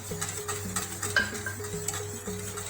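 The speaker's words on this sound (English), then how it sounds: "And we're just going to whisk it" A whisk scrapes and clicks rhythmically against a pot as a corn flour mixture is stirred into a milk tart custard filling, with quick steady strokes heard close over a low stovetop hum.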